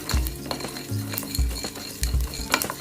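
Dried chili, black pepper and cumin fry in a little oil in a pan while a spoon stirs them, with soft crackling sizzle and several clinking scrapes of utensil against metal close by.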